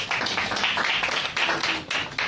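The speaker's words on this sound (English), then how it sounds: "Somebody clap for Jesus." A church congregation claps during a Friday service in quick, uneven bursts of hand claps that sound close and fairly loud.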